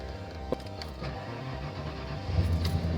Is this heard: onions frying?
no